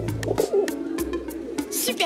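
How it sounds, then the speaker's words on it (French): Pigeons coo in an animated children's cartoon scene. Short, soft, throaty coos come in quick succession, mixed with other brief voice-like sounds. "On va courir au milieu des pigeons."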